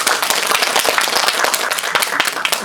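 Audience applause welcoming guests to a documentary film Q&A at an art-house cinema, dense clapping from many hands close by, steady throughout with no pause.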